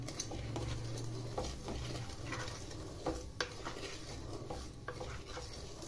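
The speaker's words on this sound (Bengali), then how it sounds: "সুজিটা প্রথমে আমি শুকনো খোলায় একটু টেলে নেব।" Dry semolina is roasted in a hot wok and stirred, giving soft repeated scraping and light tapping of a utensil against the pan, faint and close.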